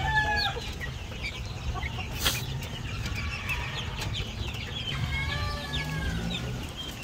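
Several barred chickens clucking nearby, with repeated short calls and a few longer warbling cries over a low rumbling farmyard background.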